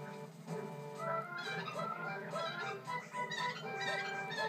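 Chicken clucking in The Legend of Zelda: Twilight Princess video game: continuous squawks and clucks that rise and fall, fairly close, with a busy game soundtrack or ambience underneath.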